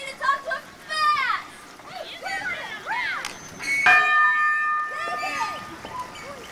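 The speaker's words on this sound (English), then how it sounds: "What are you ringing the bell for, David?" A bell rung repeatedly at a camp playground, its tones ringing out amid children's voices and outdoor play, with speech throughout.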